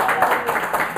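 Audience applause for a presenter at a live talk on creative JavaScript visual effects, a dense, steady wash of many hands clapping for about a second, fairly loud and close with no voices over it.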